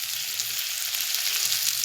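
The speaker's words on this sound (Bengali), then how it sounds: "এই কচুটাকে এইভাবে নাড়তে থাকবো।" Taro frying and being stirred in mustard oil for a taro and pumpkin curry: a steady, close hiss of sizzling oil that runs without a break and carries faint soft scraping underneath.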